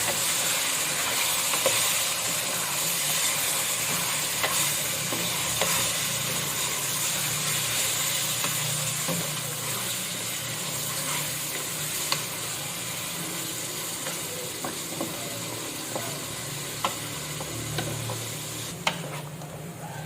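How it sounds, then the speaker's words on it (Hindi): Beef frying in a karahi with fried garlic and ginger, a steady close sizzle and hiss running throughout, with occasional scrapes and clicks of stirring and no talking. "अब इसमें हम बीफ डालेंगे। बीफ को भी हम थोड़ा भून लेंगे"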